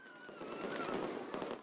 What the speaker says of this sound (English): Palestinians celebrated the decision with fireworks.